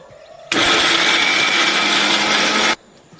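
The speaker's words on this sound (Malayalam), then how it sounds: "ആദ്യം നമുക്കിതൊന്ന് ക്രഷ് ചെയ്തിട്ട് ജീരകമൊക്കെ ചേർത്ത് കൊടുക്കാം" A kitchen mixer grinder crushes coconut pieces for a yam curry paste, starting abruptly and whirring loud and steady for about two seconds before cutting off, with no talk.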